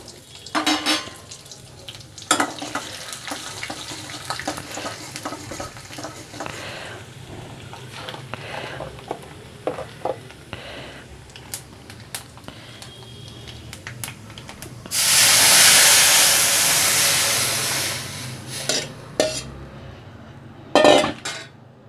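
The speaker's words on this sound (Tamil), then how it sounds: "வடகம் சேர்த்துக்கிறேன்." Vadagam dropped into hot oil for a Tamil fish curry gives a loud, steady sizzle for a few seconds, with scattered clinks and stirring noises before and after it.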